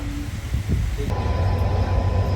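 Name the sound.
train passing on the USBRL rail line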